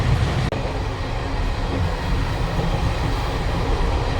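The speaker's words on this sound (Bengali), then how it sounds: "নিজের গতিতে এখন ট্রেন এগিয়ে চলছে সামনের দিকে বোকারো স্টিল সিটি এক্সপ্রেস" Bokaro Steel City Express heard from inside a moving carriage: a steady, loud rumble and roar of wheels on track, continuous throughout, with one brief knock near the start and no talking.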